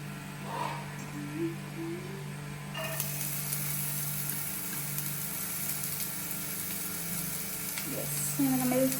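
Onions go into hot oil for kothu chapathi, and a broadband sizzle swells partway through and then holds steady at moderate loudness while a person talks over it.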